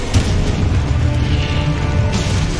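Confringo blasting spell exploding in a Harry Potter video game: a loud, sustained boom with a heavy low rumble that opens with a sharp burst and rolls on for under three seconds.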